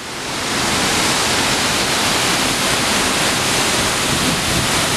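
Shellburg Falls in Oregon roars close by, heard from underneath the waterfall, a loud, steady rush of falling water that swells in at the start and then holds constant, with no voices.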